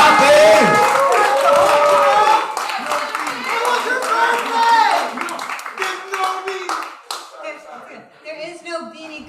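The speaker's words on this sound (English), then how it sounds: "Keep clapping." Open mic audience in New York claps for a comedian walking to the stage, a dense burst of applause that thins out and fades over several seconds while voices talk and cheer above it.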